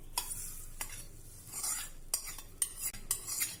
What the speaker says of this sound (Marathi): ही तयार फोडणी आता आपण ह्या चटणीवर घालू